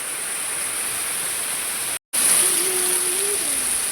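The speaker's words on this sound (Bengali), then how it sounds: "কমিস না, বৃষ্টিটা কমিস না," Heavy rain falling as a dense, steady hiss that fills the whole clip, cut by a brief silent gap halfway, with a faint tonal hum afterward.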